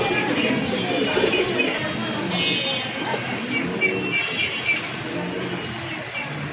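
Pigeons at a bird market, with soft low cooing close by against a busy background of murmuring voices and distant traffic.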